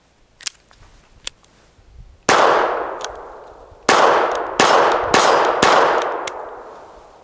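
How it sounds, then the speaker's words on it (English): High velocity .22 Long Rifle rounds fired at an outdoor target: a few faint early pops, then five sharp, loud cracks with ringing metallic clangs, each decaying quickly, spaced a second or less apart. "5 rounds, high velocity 22 long rifle."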